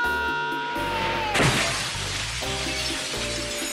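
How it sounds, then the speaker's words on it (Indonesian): Shop window glass smashes in the film Home Alone 2 as a boy sets off an alarm, a sudden bright crash over a bed of orchestral music. "menyalakan alarm dengan memecahkan kaca toko"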